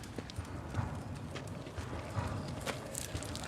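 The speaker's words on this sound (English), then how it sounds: "Horses." Horses' hooves clip-clop steadily on a hard surface in an early twentieth-century Birmingham street scene, a continuous rhythmic clatter of several animals at moderate distance under a general background bustle.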